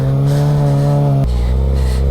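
A motorcycle engine is held at high revs, loud and close, to warm a Michelin sport tyre, then drops abruptly to a lower, rougher note partway through.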